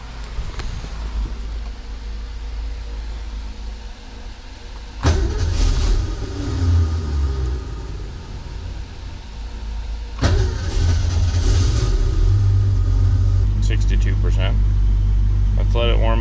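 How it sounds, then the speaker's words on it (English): A 1966 Mustang fitted with Sniper EFI cranks and fires up twice, each start a sharp surge that settles into a rumbling idle, while a person talks nearby. "Let's try and start it."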